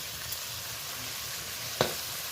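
Dried red chillies crackling in hot oil with Bengali five-spice tempering, a constant close sizzle with a single sharp stirring clack near the end.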